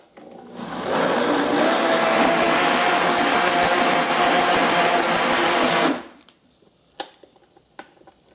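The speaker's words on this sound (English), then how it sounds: "We'll give it a little bit more in the blender, see how we go." A kitchen blender whirs loudly and steadily as it purées hummus, running for about five seconds before cutting off, followed by a few faint clicks and knocks.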